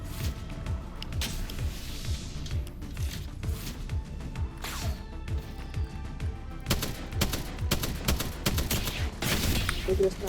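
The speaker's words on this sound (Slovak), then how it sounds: "A už poviem, niekto strieľa." Gunfire in the video game Apex Legends, quick bursts of shots and clattering mechanical clicks scattered throughout at moderate level, with voices faintly present underneath.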